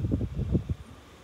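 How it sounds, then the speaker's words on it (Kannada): Strong wind gusts across an open terrace on a cool, overcast day, buffeting the microphone in several loud, rumbling bursts during the first half before easing to a softer, steady breeze. "ಫುಲ್ ಗಾಳಿ ಕೂಡ ಜೋರಾಗಿ ಬೀಸ್ತಾ ಇದೆ"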